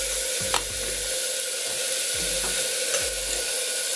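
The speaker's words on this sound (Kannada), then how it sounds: "ಮೂಲಂಗಿ ಹಾಕಿದ ಆದಮೇಲೆ ಒಂದು ಎರಡು ನಿಮಿಷ ಫ್ರೈ ಆದಮೇಲೆ" Radish pieces fry in a pan, giving a constant bright sizzle. A few clanks and scrapes from stirring break through at intervals.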